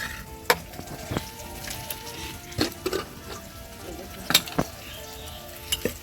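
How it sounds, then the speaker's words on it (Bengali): Pumpkin slices fry on a stove with a steady, close sizzle, and a few sharp utensil clinks and taps break through at intervals. "অনেকক্ষণ আগে চলে এসেছি উনুনে, কুমড়ো ভাজা করছি"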